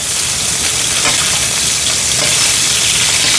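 Fish sears with a crispy crust in a frying pan while being basted, a loud, dense, continuous sizzle close up, with faint stirring and spattering textures over the top and no voices.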